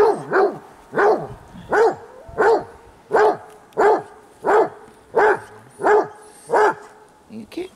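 A dog barks in a steady run of about ten loud, close barks at roughly even spacing, with no other sound between them.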